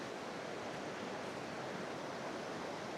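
A fast-flowing river near Talsi, where a dam has been swept away, rushes in a steady, dense broadband roar, close and continuous with no pauses.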